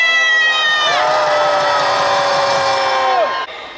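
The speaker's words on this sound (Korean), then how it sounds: "뜨거운 박수 부탁드립니다" A loud crowd at a political rally in Gwanghwamun cheers and whoops continuously, with sustained shouting voices over rhythmic clapping, fading out near the end.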